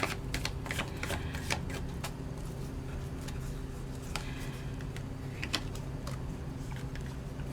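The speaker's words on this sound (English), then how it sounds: "I just really shuffled those cards" Tarot cards being shuffled by hand produce quiet, rapid papery clicks and riffles in an irregular rhythm, close up, with no voice.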